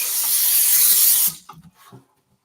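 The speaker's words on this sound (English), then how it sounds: "And I'm going to grease it a little bit." Cooking spray hissing from a can onto a rectangular metal USA Pan loaf pan, one close, steady spray burst of just over a second followed by a few soft clicks and taps.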